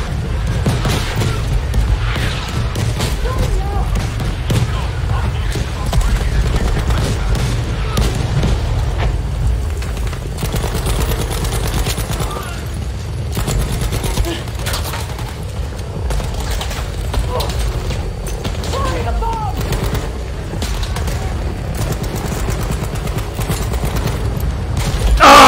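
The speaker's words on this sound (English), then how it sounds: "Oh great, missile strike." Missile strike explosions and gunfire in the video game Battlefield 5 thunder as a continuous, loud barrage of booms and crackling shots, mixed with game noise throughout.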